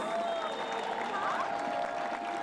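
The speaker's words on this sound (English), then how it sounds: "Give her a big round of applause, Councilwoman Mónica Rodríguez." A crowd gathered behind City Hall for an El Grito celebration claps steadily in applause for a councilwoman, a dense, even wash of handclaps holding throughout.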